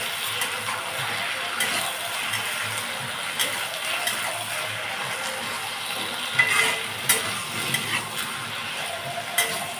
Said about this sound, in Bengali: তো এখন আমি খুন্তি দিয়ে নেড়ে চেড়ে ফ্রাই করে নেব